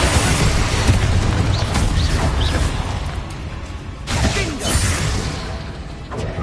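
Magical blast spells in a Hogwarts Legacy battle erupt as loud booming explosions with whooshing bursts, several heavy impacts in quick succession up close.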